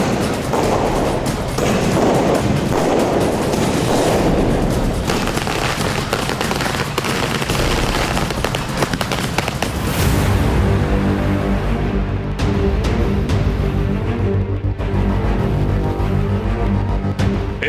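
Dense, continuous crackling and popping of many Diwali firecrackers going off at once in Delhi, loud and chaotic, later mixed with a steady low rumble.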